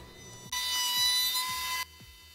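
A router rounds over the edge of a wooden base with a steady, harsh whirring rasp for just over a second, set against faint rhythmic thumps in the background.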